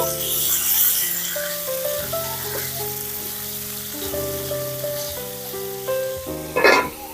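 Ridge gourd peel sizzles steadily in a pan for a village-style chutney, a continuous close frying hiss under faint tonal background sounds, with a brief louder burst near the end.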